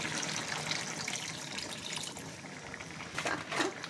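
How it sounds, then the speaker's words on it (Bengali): Water pours steadily into a pot of simple Bengali chicken curry, a continuous close splashing gush throughout with a slight swell near the end. "এখানে দিতে হবে জল,"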